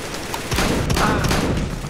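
Shotgun blasts in a Roblox Counter-Strike match, a dense burst of loud, close gunfire with a sharp crack and heavy boom lasting about two seconds, with no voices over it.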